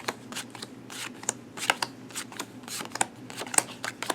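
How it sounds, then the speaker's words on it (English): Playing cards are flipped face up one by one and laid out in three rows of seven for a card trick, giving a steady run of close, crisp snaps and slides on a tabletop. "you're going to flip the cards over"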